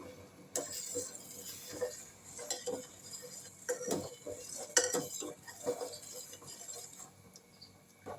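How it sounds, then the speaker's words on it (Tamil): Milk curdling with lemon juice for homemade paneer, stirred in a pot with a metal spoon that gives repeated light clinks and scrapes at an uneven rhythm, close by and fairly quiet. "இப்போ இதில் வந்து எலுமிச்சை பழத்தை வந்து ஊற்றிக்கலாம் ஊற்றிட்டு நல்லா கலக்குவோம்"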